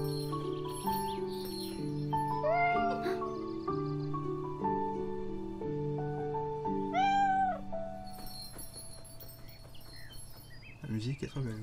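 A cat meows in the video game Beyond Eyes, a few short clear mews rising over soft melodic game music, with a voice talking along underneath.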